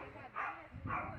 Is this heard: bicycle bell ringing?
no